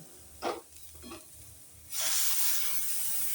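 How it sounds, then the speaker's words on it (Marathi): Strained fenugreek stalk water hits hot oil as a tempering and bursts into a loud, close, continuous hissing sizzle, preceded by a couple of brief clinks. "त्याची फोडणी बनवणार आहे आपण"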